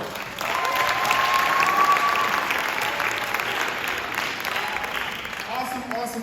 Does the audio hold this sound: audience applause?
yes